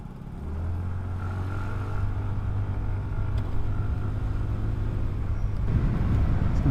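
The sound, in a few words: Suzuki Skydrive Sport FI scooter engine accelerating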